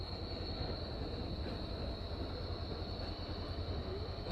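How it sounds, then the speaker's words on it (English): A traditional Berlin tram rumbles past in a dense, steady roar of wheels on rails that fills the whole moment, heard close with no talking. "And there's your traditional trams."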